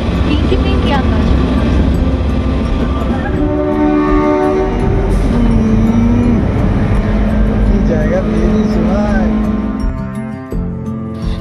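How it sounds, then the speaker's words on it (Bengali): Shivalik Express train running from Kalka to Shimla through green hills, a steady loud rumble and rattle of the carriages going on throughout, with voices talking over it and the noise easing near the end. "ট্রেনটা পাহাড় আর সবুজ গাছপালাদের মধ্যে দিয়ে যাচ্ছে।"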